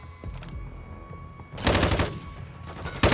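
Sniper rifle fire during a competitive video game match between LA Thieves and Minnesota Rokkr, heard as a loud burst of shots in the second half, with a final sharp crack at the very end.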